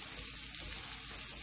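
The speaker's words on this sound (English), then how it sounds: "Now we're going to fry the onions and the spices together for about 2 to 3 minutes" Onions and spices for keto upma frying in hot oil, a dense, even sizzle holding steady throughout, close and loud with no voices.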